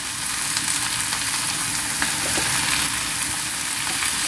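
Fish cake, bean sprouts and onion stir-fry in a hot pan, giving off a steady, close crackling sizzle with no voices.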